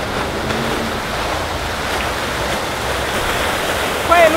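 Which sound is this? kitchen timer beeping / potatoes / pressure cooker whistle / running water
running water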